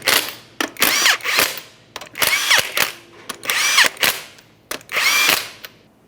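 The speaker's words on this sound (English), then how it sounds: "start on all 5 of your 19mm lug nuts. We'll bottom them out." Power tool on a 2012-2015 Honda Civic wheel running down 19mm lug nuts: five loud, close bursts of whirring rattle, each about half a second to a second long, separated by short pauses, with no talking.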